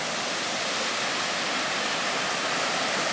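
A river near a dam close to Bond Falls rushes loudly and continuously with a dense, steady roar and no talking.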